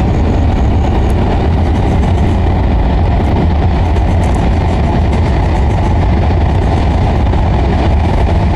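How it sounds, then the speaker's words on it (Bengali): A train runs over a bridge on the Naihati to Bandel line, giving a loud, continuous, heavy rumble that stays steady throughout. "এবার দেখুন ব্রিজের ওপর থেকে ট্রেন যাচ্ছে, মানে এটা নৈহাটি থেকে ব্যান্ডেল আসছে ট্রেন।"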